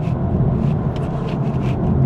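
A BMW i4 M60 electric car in launch mode, a steady low rumble of the car body and road under hard acceleration, with no engine note.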